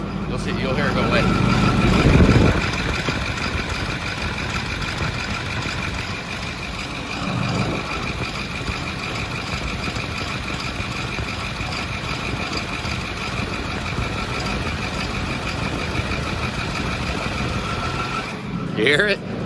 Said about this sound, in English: You hear it? It's a pulley.